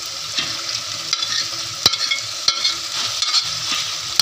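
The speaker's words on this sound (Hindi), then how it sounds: "अब इसे अच्छी तरह से मैं मिक्स कर लूँ मसाले में, ताकि भिंडी में मसाला जल्द हो जाए।" Fried okra is stirred into masala in a hot pan, with a low steady sizzle beneath scraping spoon strokes and a few sharp clicks against the pan, close and moderately loud, no talking.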